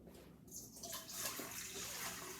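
Water poured into a bowl to start a holiday bread dough; a soft, steady trickling stream, fairly faint and close, without any talking.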